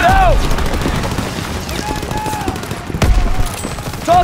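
Call of Duty WW2 battle: bursts of rifle and machine-gun fire crack repeatedly amid shouting soldiers, with whistling shells overhead and a louder close shot near the end.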